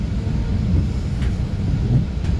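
A GO Transit Lakeshore East commuter train rolling into Union Station, a steady low rumble of wheels on rail filling the whole stretch at even loudness, with no voices.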